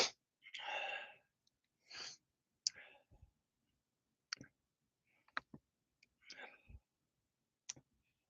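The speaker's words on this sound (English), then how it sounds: "Hopefully, I didn't sneeze in anybody's ear." A single close-up sneeze right into a microphone, followed by quiet clicks, breaths and small mouth noises in an otherwise silent room.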